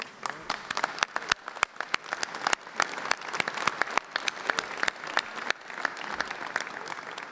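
An audience at a pension reform event gives a round of applause. Individual sharp claps stand out over a steady crowd clatter that carries on for several seconds without a break.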